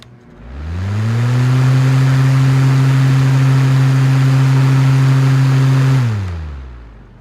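A Honeywell HT-904 C-frame fan motor starting up on its high setting, with a loud hum that rises quickly to a steady whirring drone, holds for several seconds, then winds down, close and alone.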